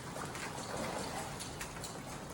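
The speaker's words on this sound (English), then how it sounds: "It's raining! It's like big sparse droplets, but it's really coming down out there." Heavy rain falls outside in big, sparse droplets, a steady soft hiss with scattered patters, faint and distant.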